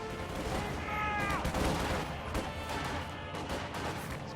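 Gunfire rattles against Grenadier infantry in a real-time strategy battle, a dense, continuous spread of shots and impacts with no pauses, blended with a brief tonal whistle near the start and a faint voice underneath.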